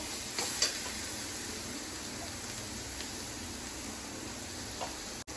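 Chili and turmeric powder frying in a pan give a soft, even sizzle throughout, with a few faint clicks near the start and a short knock just before the end.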